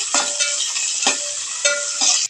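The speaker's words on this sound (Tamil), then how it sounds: "அடுத்து வெங்காயம் கருவேப்பிலை பச்சை மிளகா இப்போ நல்லா கிண்டிடலாம்" Onion, curry leaves and green chili sizzle loudly in hot oil as a spoon stirs them, with several scraping strokes across the pan cutting through the steady close frying hiss.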